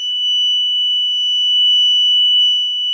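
A Chubb On Guard Pro System 1 model 4591 burglar alarm's solid piezo sounder emits a loud, steady high-pitched tone that holds unbroken for the whole stretch, with no voices over it.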